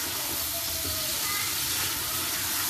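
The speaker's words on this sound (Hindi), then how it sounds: "प्याज भी फ्राई हो रहे हैं तेल में" Onions frying in oil in a home kitchen pan give a steady, dense sizzle and crackle that holds evenly throughout, close and fairly loud, with no talking.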